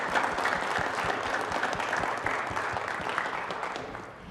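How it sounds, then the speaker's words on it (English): A city council meeting audience applauding an honoree, a dense, sustained round of clapping at moderate distance that holds steady for several seconds and fades slightly at the end. "let's give him another round of applause"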